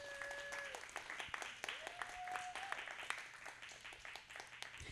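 Audience applause at a community event honoring local organizers, steady clapping sustained across the whole moment with a few sharp individual claps standing out and a faint tonal whistle over it.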